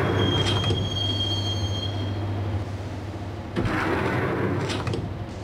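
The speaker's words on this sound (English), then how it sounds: "the train doors had already shut behind me, and I was in for the ride" A subway train rolls along in the Max Payne video game, its steady low rumble carrying a thin, sustained wheel squeal, with a brief surge of clatter and rushing noise partway through.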